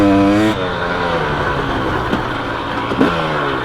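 KTM 300 XC two-stroke dirt bike on a trail, its engine loud and close, with a sharp rev at the start, then a steady rough drone broken by small bumps and rattles.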